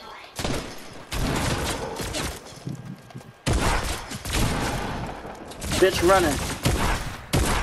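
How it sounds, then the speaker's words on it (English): Gunfire in the Fortnite video game cracks in dense bursts and single shots, loud and close, while players talk and shout excitedly over it. "Yeah, them boys shooting at us."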